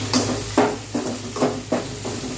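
Vegetables for a perandai thuvayal sautéing in a pan, with a steady soft sizzle broken by regular scraping strokes of a spoon against the pan, close and alone.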